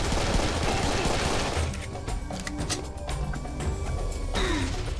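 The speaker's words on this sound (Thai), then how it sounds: "ใครยิงกู" Rapid gunfire from weapons in the shooter game Serious Sam 3 BFE, a dense, loud burst of automatic shots that rattles on steadily for several seconds before thinning into scattered clanks.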